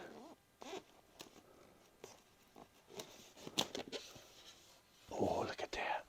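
Packing tape pulled off the cardboard box of an O-scale model train, heard as close, raspy zipper-like peels in short bursts, with a longer loud strip near the end.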